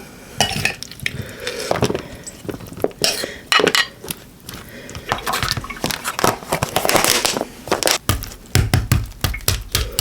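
Dishes and utensils clatter in a home kitchen as food is served into a bowl, with repeated scraping, clinking and tapping in irregular bursts, close and fairly loud, no talking.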